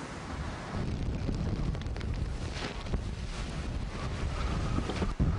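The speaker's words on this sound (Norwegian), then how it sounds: "Ja, det blåser litt." Strong wind gusting through a guest harbour during stormy weather, a loud, rumbling roar buffeting the microphone with a continuous wash of noise and a few sharper bumps, no voices present.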